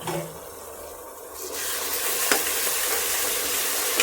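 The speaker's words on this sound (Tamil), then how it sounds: "இஞ்சி பூண்டு பேஸ்ட் போட்டு நல்லா வதங்கியாச்சு" Ginger garlic paste cooks in a pan with a steady, loud sizzle that swells after a quieter start, broken by a couple of sharp scrapes from stirring.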